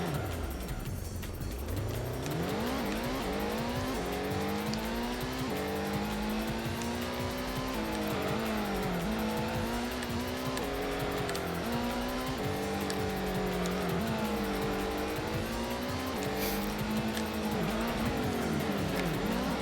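Race car engine from the PS1 game Gran Turismo during a 30-lap all-night endurance race on worn tires, droning steadily with rising and falling revs through gear shifts, joined by tire squeal, loud and continuous with no voices.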